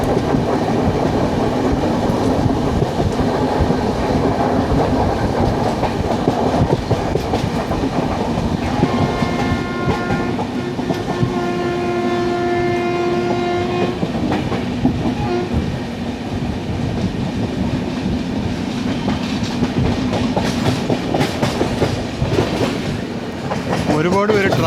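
Inside an AC coach of the 12258 Garib Rath Express from Kochuveli to Thrissur, a steady rumble of wheels on rails with rhythmic clacking continues throughout, and a horn sounds in the middle, with faint talk at times.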